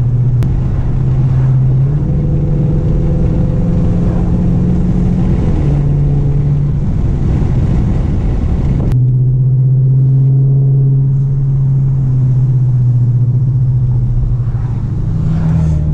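A large car floored at full throttle through a mountain canyon, its engine roaring loud and close with a low droning note that climbs, breaks at a gear shift midway, then pulls hard again.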